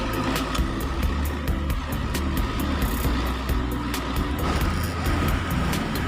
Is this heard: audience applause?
no